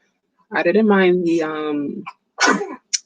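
A drawn-out, voiced sneeze builds up and bursts out close by, followed by a short sharp follow-up sound.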